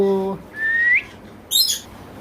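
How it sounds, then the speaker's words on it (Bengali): A male Alexandrine parakeet at a bird market gives a rising whistle followed by a short, harsh, high chattering call, close and clear with little else around it. "আমাদের কাছে রয়েছে খুব সুন্দর একটি মেল চন্দনা পাখি"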